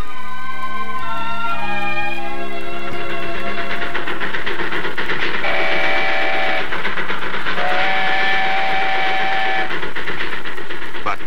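A train rumbles loudly along the rails as a steam whistle sounds twice in long, sustained blasts.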